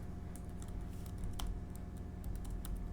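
Quiet, quick keystrokes clatter on a computer keyboard as a code comment is typed, an irregular burst of light taps over a steady low room hum, with no voices.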